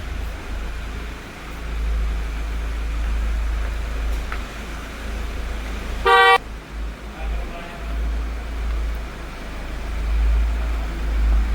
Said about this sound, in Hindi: गाड़ी निकाल ली सायन के पापा ने।